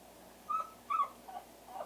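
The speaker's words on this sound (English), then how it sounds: "You can hear my pup in the background probably whining." A puppy whines in the background in short, high, faint cries, four of them spread across a quiet indoor room.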